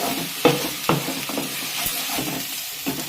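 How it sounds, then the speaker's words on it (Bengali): Spice paste with turmeric, salt and Kashmiri chili powder frying in a pan for a Bengali stuffed bitter gourd curry, a steady sizzle broken by several sharp scraping stirs, close and moderately loud with no talk. "এবার আমাদের মশলাটাকে ভালোভাবে কষিয়ে নিতে হবে।"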